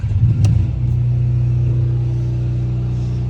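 An RV camper's generator starts inside a hangar: a brief cranking burst, then the engine catches and settles into a steady, fairly loud mid-pitched hum that echoes slightly and holds evenly to the end.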